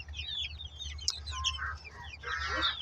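Cornish Cross meat chickens cluck and chirp softly at close range, with several birds calling over a low background rumble and no talking.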